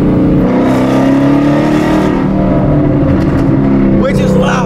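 Car with its current exhaust setup, ahead of Kooks 1-7/8 inch long tube headers, rumbles loudly with a deep, steady engine drone and rising pitch near the end as it revs, with a voice talking over it.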